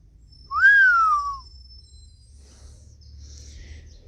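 A person whistles once, a single clear note that sweeps up and then glides down, close and fairly loud, followed by quiet room background.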